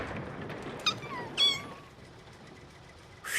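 A mother cat and her kittens meow, a few short high cries in quick succession over a soft hiss, close and clear, with another brief meow at the end.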